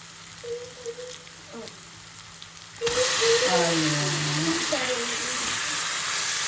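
Tomatoes drop into a hot pan for a prawn roast and start frying: quiet at first, then a sudden loud, steady sizzle and hiss that carries on to the end, with voices talking underneath.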